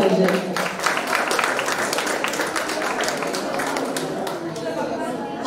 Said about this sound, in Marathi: टाळ्यांचा जोरदार कडकडाट झाला पाहिजे.